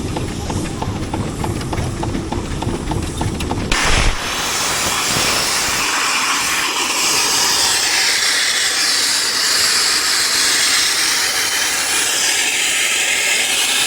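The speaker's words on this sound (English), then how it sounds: "What happened was the boiler sight glass broke, and so, you know, opens the boiler to atmosphere, so it all gets quite exciting." Steam roars out of a steam engine's boiler after its sight glass breaks and opens it to atmosphere, a loud continuous hiss that takes over after a rhythmic chuffing, filling the rest of the clip at close range.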